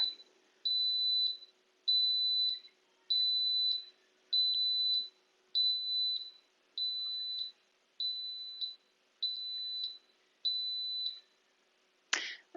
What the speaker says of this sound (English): emit a series of loud beeps to tell us that it's done cooking